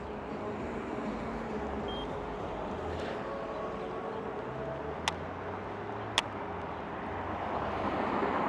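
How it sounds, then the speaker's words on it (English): Wind gusting across an outdoor microphone, a continuous low rumbling buffet that swells toward the end, with two brief sharp clicks along the way. "the wind is really kicking"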